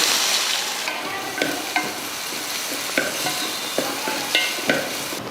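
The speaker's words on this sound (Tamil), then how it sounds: "வெங்காயம் பாருங்கள் இந்த மாதிரி நல்லா பொன்னிறமாக வதங்கிருச்சு" Close-up sizzling of three large onions frying golden in hot oil with curry leaves, with a steady crackle broken by periodic scraping stirs of a spoon in the pan.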